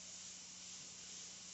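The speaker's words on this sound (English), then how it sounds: "Again, let's test our spray." Airbrush test spray of paint, a steady continuous airy hiss held evenly at close range from start to finish, with no voices.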